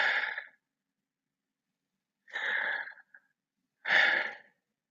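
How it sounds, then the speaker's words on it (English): Three slow breaths, each a soft airy rush, separated by silent pauses, close and alone with no talk. "What does it sound like when you breathe?"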